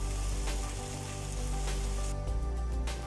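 Mutton liver pepper roast sizzles steadily in a hot pan as it is stirred, a dense, close frying hiss with soft scraping and no voices.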